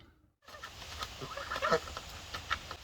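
A domestic goose in a backyard flock calls with faint, soft clucking honks after a brief silence, scattered and close by at low volume.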